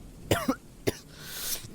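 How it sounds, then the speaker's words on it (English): Three quick coughs, close and clear, with a raspy throat-clearing quality and short pauses between them, followed by a soft breathy exhale. "He coughs again, never able to gain a tolerance for it"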